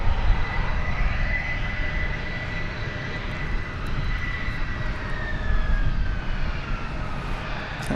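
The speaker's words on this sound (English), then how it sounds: "Sounds like an engine shutting down." A jet aircraft engine at DFW airport winds down, its steady roar and high whine slowly dropping in pitch at a moderate distance, with no voices.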